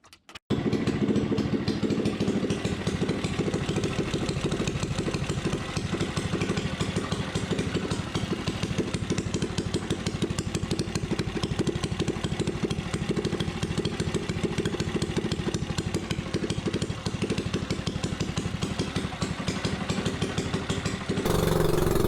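A 98cc Rascal mini bike engine revs steadily and loudly throughout a ride, its buzzing small-engine drone holding high and constant close by, with no talking.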